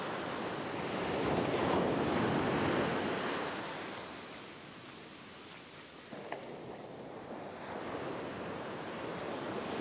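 Waves breaking into white water along a surf beach, a steady broad roar of surf that swells and fades, with wind buffeting the microphone throughout and no voices.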